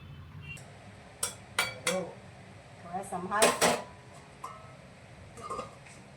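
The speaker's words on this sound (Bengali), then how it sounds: "আমি শুধু খুন্তিটা নেড়ে দিচ্ছি" A metal spatula scrapes and clinks against a pot of mixed vegetable curry, with a few sharp strokes spread over several seconds under a voice talking quietly in the background.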